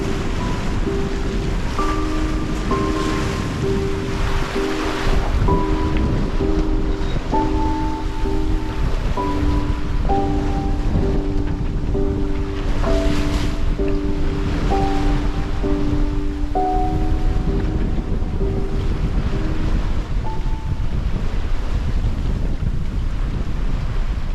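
Wind and ocean waves heard from a sailboat under way on the open Pacific, a loud continuous rush with steady buffeting and faint tonal whistles, no voices.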